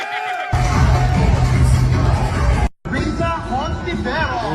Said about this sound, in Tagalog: Sigawan natin ng Duterte.